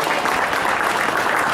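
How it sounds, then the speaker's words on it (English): A crowd at a girls' high school basketball tournament gives the Sachem team a dense, steady burst of applause, short and continuous with no voices standing out. "Nice round of applause for Sachem."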